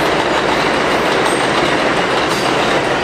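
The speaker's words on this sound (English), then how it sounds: "That's the 4 train." A New York City subway 4 train in the Bronx rumbles past close by, loud and steady, with continuous rail roar and wheel clatter throughout and no voices.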